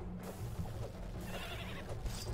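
Pigs in the video game Starbound, squealing cries against a dense, noisy game soundscape, with several short calls bunched over a couple of seconds and no voices.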